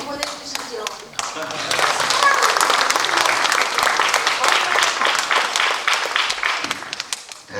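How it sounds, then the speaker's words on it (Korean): An audience at a community town-hall meeting with citizens applauds the mayor, starting with a few scattered claps and swelling into a full, steady round of clapping that lasts several seconds before thinning out. "우리 시장님께 큰 박수 좀 보내주시죠."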